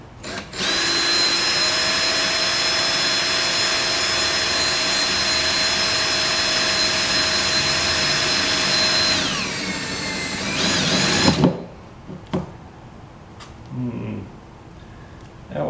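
A power drill whines loudly and steadily for about nine seconds while building a trailer, its pitch sliding down as it slows and stops, followed by a few quiet clatters.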